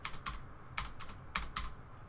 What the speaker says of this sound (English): we're going to type in path equals